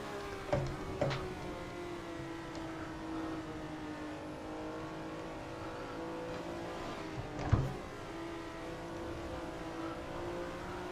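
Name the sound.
Ferrari race car driving a lap, from a racing video game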